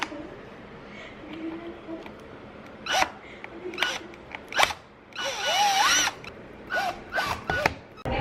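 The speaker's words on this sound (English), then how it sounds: "I actually put one in a drill, and now I can press down on it and get the torque that I need" A handheld power drill backs screws out of a laptop in short whirring bursts of a few seconds each, loud and close, with a lull between runs.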